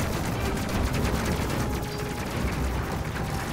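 Dense, continuous volley of gunfire from an enemy ship in the space combat game Space Crew, a steady rattling barrage of overlapping shots filling the whole moment with no pauses or voices.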